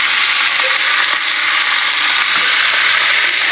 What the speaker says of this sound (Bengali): তো এটা ভালো করে আগে ফোড়নের সঙ্গে আলু আর বিনসটাকে ভেজে নেব